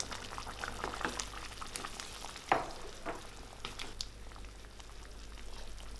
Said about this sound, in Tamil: இப்போ இதில் தேவையான அளவுக்கு உப்பு சேர்த்துட்டு மிக்ஸ் பண்ணி விட்டுடலாம்